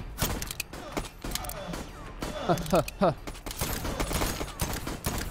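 Burst-fire AK rifle shots in the Voidtrain video game, a few quick rattling volleys in the middle among clanking mechanical game sounds, mixed with a voice.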